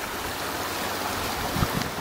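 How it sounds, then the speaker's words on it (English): Spring water flows steadily beneath a log bridge at the back of a property, a continuous rushing, bubbling wash with no voices, holding level throughout and briefly splashing a little louder near the end. "You see the water is flowing really well"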